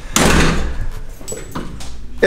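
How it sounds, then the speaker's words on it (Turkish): A house door is pushed shut at a villa entrance, giving one solid thump followed by brief rattling and a jangle of keys near the end, with a person talking in the room. "Gel abi kapıyı bir kapatalım."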